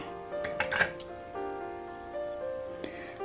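An egg cracked against a mixing bowl while making corn-free paleo cornbread in a home kitchen: a quick cluster of sharp, close clinks and taps, with the bowl ringing briefly afterward, then a quiet hum and one more faint knock near the end.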